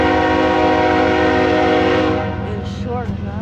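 BNSF freight train passing near a freight yard, a loud sustained multi-tone air horn blast that cuts off partway through, followed by rumbling wheels and squealing rail noise close by.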